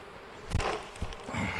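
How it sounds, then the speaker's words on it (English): Honeybees buzzing close by as a hive frame is shaken, a faint steady hum broken by a few soft thumps and brief bursts of louder buzzing. "go ahead and shake the bees off there"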